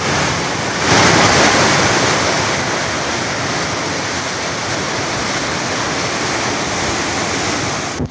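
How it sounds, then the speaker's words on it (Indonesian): Flash floodwater in Brebes, Central Java, rushes past in a loud, unbroken roar of churning water and broadband noise that holds steady for about eight seconds, with no voices. "Banjir bandang tidak hanya merendam rumah warga, tetapi juga menyeret beberapa kendaraan."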